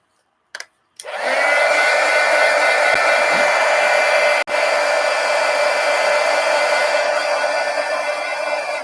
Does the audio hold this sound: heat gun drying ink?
yes